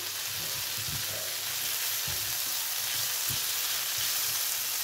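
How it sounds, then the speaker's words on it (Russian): Chopped onion fries in a pan on a stovetop, giving a steady, close sizzle throughout, with soft scraping thuds as it is stirred several times. "И вот теперь я добавляю свою лукову. Перемешиваю."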